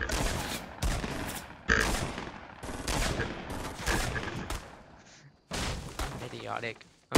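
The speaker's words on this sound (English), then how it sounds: "Somebody's shooting at us." Gunfire from the Fortnite Battle Royale video game, with repeated sharp shots and bursts landing in quick irregular clusters. Loud game effects fill the whole stretch.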